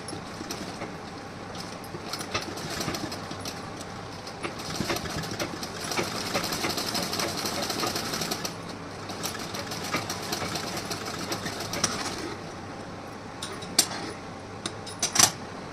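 Sewing machine stitching a blouse, running in steady mechanical bursts with a brief pause and faint tapping near the end, close and moderately loud.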